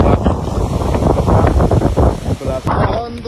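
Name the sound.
strong wind blowing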